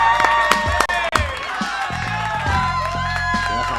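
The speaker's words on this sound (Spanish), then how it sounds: "con un fuerte aplauso vamos a recibir a uno de nuestros columnistas." Studio audience applause and cheering on an Argentine talk show, a lively crowd burst with sharp claps and whoops rising in the foreground, with a host's voice mixed into the noise.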